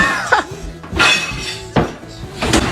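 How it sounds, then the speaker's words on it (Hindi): An oven tips over while a pizza is being taken out, giving several loud clattering crashes and metallic bangs spread across a couple of seconds, with brief clinks between the impacts. "पिज्जा तो गिरा ही, लेकिन पूरा ओवन भी उलट गया।"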